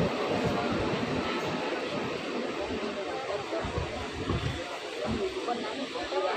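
A MEMU express passenger train runs between Kakinada and Vijayawada, recorded from on board as a steady loud rumble and hiss with rhythmic rail clatter throughout, no pauses.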